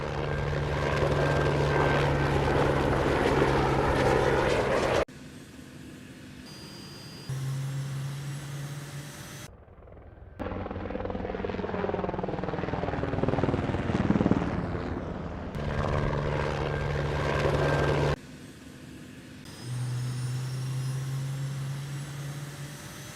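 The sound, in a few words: helicopter sound effects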